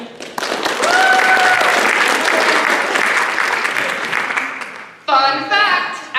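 Audience applause for a speaker after a debate oration, a dense loud burst of clapping sustained for about five seconds that fades, then a voice briefly comes in.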